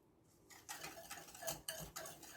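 Sugar, lemon zest and cherries whisked together in a bowl for rock cakes, giving a series of close, quiet scraping and ticking strokes against the bowl with no talking.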